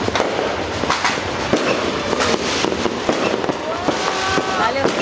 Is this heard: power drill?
no